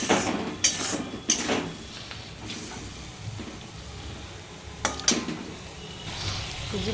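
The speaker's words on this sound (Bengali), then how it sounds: "ভালো করে একটু কষে নিই।" Spice paste being sautéed in oil in a pan for a home-style okra and potato curry, giving a low, steady sizzle with a few sharp utensil scrapes and clinks standing out near the start and again around the fifth second.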